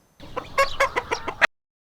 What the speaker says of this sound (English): the hen, la gallina